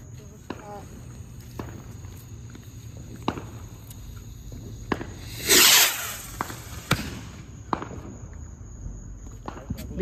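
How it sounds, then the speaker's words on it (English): Fireworks crack and pop through the trees at a July 4th gathering, scattered sharp bangs spread across the stretch with one brighter hissing burst midway, set against steady insect chirping outdoors. "They got fireworks coming all through the trees over there."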